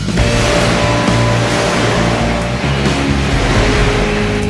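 A topless Jeep engine runs loud and steady on its first run, with a continuous rumbling drone and wind noise throughout.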